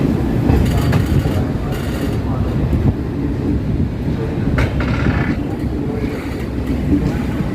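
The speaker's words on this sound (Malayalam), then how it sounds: "ട്രെയിൻ കോഴിക്കോട് റെയിൽവേ സ്റ്റേഷനിലേക്ക് എത്തിക്കൊണ്ടിരിക്കുകയാണ്" The 12201 Mumbai LTT–Kochuveli Garib Rath Express, on its last run with ICF coaches, rolls into Kozhikode railway station with a loud, continuous rumble mixed with gusty wind noise throughout.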